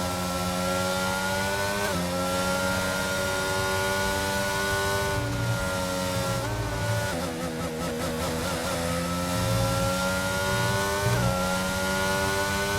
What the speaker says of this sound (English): You can hear the throttle response from the drivers going through that sector 1 with a full tank of fuel.